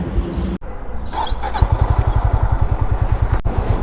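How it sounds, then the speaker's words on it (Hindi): A Honda CB350 RS motorcycle engine catches and settles into a steady, rhythmic thumping idle, then pulls away, loud and close, with no talking over it. "ये खड़ी है बाइक, स्टार्ट करते हैं और निकलते हैं।"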